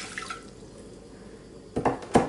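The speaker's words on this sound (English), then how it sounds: "in here we've got 300 mils of water. That's gonna go straight into the pan." Water, 300 ml, pours into a saucepan for sugar syrup as a steady low wash, followed by a couple of sharper splashing or clinking bursts at the end.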